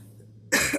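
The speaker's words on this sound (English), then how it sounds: "the cough" A single sharp cough bursts out close after near silence, followed by a brief second hack.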